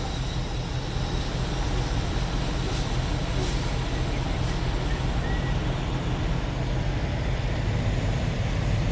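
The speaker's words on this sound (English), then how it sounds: "Oh my God, look, the truck is actually rolling." A truck begins to roll, giving off a continuous heavy engine rumble and road noise, close and steady for the whole stretch, without speech.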